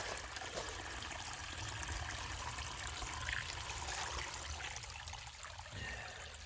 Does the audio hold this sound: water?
yes